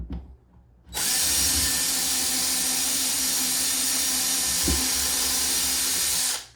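A power drill bores holes through a bathroom cabinet for a toilet paper holder, starting abruptly and whining loudly and steadily for several seconds close by before winding down.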